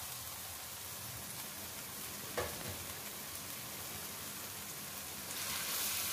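Beans, carrots and green peas being stir-fried in a pan for a vegetable mutabak filling, a steady, soft sizzle throughout with one brief stirring clatter, no voices.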